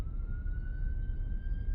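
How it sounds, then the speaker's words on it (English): An emergency vehicle siren sounds faintly in the distance as a single steady wailing tone behind a low rumble of traffic. "I can hear sirens."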